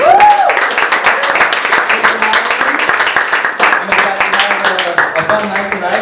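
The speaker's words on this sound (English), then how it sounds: "Keep that applause going" A comedy show audience applauding, loud and continuous clapping from a crowd that holds steady for the whole stretch, with a host's voice speaking over it.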